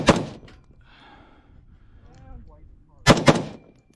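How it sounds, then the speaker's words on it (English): Rifle fired at steel targets on an outdoor desert range, a loud shot at the start and later a quick double tap, with faint background noise between the reports. "And some double taps in there. This rifle doesn't move very much when you shoot."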